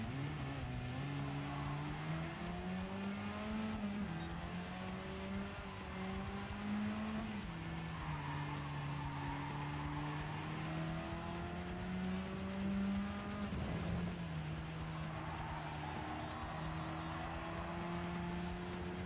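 A race car in a racing video game runs wide across a gravel trap, its steady engine drone holding loud and close as tires scrub and skid over the surface, with a rougher burst of noise near the end.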